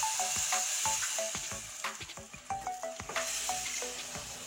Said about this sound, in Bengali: এখন এই ডিমের ঝোলটা দিয়ে দিচ্ছি ফোড়নে।